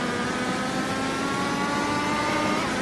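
IndyCar race cars on a circuit, a continuous loud engine drone with rising, whining pitch as they accelerate, with no voices.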